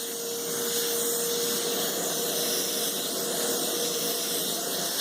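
Hoover Futura canister vacuum cleaner running with its upholstery nozzle fitted, a loud, constant whooshing roar with a high whine that holds steady from start to finish.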